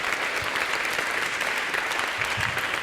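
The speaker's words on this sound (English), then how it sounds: "Round of applause for Dominik." Sustained applause from an audience, steady dense clapping filling the whole stretch without pause.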